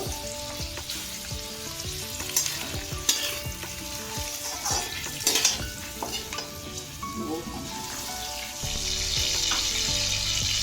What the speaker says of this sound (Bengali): চিকেনটা আমি একটু ভালো করে নেড়ে ফেড়ে নেবো